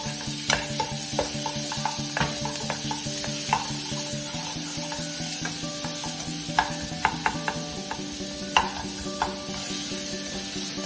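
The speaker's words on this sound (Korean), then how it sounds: "버터에다가 볶는 거라고 생각하시면 되세요" Chopped onions sizzle continuously in butter in a pan while a utensil stirs, tapping and scraping now and then, close by with no talking.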